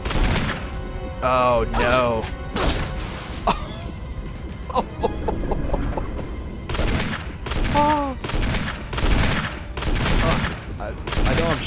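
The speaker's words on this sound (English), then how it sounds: "I know I'm shooting him." Bursts of gunfire in the Resident Evil HD video game, Jill's finale boss fight, crack out repeatedly in short loud volleys mixed with game effects and creature noises, with someone talking and exclaiming between shots.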